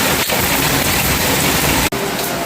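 Steady rain falling hard outside a home, a dense, even hiss that fills the whole moment, broken by one abrupt cut near the end.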